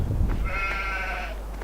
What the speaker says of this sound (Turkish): Burası ahırımız. Ve koyunumuz.